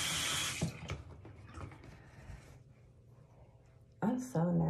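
Lukewarm water runs from a bathroom sink tap, a loud rushing spray at first that fades to a softer flow, with a voice speaking briefly over the end.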